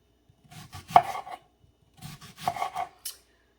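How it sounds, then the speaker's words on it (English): A knife chops red onion on a cutting board for guacamole, two quick bursts of several crisp, close taps separated by a pause. "now we're ready to start dicing up the rest of our ingredients for the guacamole"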